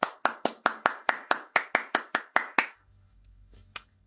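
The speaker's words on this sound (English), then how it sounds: "Let me keep the claps in because I would like people to clap." Twelve sharp claps in an even rhythm, close and fairly loud, like a small group or single person applauding, then a quiet pause with faint room hum and one last isolated clap.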